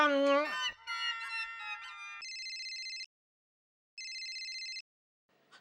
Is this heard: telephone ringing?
yes